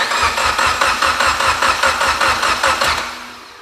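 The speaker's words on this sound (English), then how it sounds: "All we have to do is have Bobby start it up." An 800whp Mitsubishi Evo X engine cranks over with a rapid, rhythmic starter chug repeating loudly and evenly for about three seconds, then fading away without catching.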